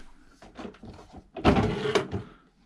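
A drawer or cupboard in a Princess F70 yacht cabin opens with soft wooden rubbing and clicks, then a louder thunk and slide near the middle, close and alone.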